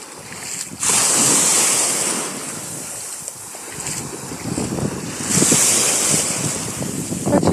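Ocean surf on a Florida beach, a steady loud wash of breaking waves with strong wind buffeting the microphone, swelling twice into heavier surges.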